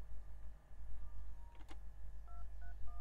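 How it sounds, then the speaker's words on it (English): Telephone number being dialed in the Prison Break: The Conspiracy video game, a few quiet separate keypad tones near the end after a brief click, over a low room hum. "I gotta make a phone call."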